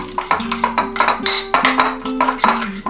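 Chopped paneer tikka shashlik ingredients mixed in a metal bowl, with a steady run of close clinks, scrapes and ringing metallic taps in an uneven rhythm and no talking.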